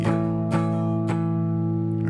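An electric guitar is strummed across all strings with the rest muted so only two strings ring, three strokes sustaining steadily, clear and alone.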